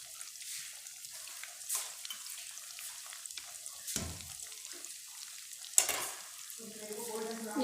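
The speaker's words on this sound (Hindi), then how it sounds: "स्लो फ्राई फ्लेम पे होने दें" KFC-style chicken drumsticks slow frying in oil over a medium flame, a soft crackling sizzle with occasional louder pops and stirring clinks, fairly quiet and close, no voices.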